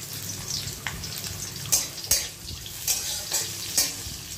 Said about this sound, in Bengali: আর এর মধ্যে পেঁয়াজ ফোড়ন দিয়ে দেবো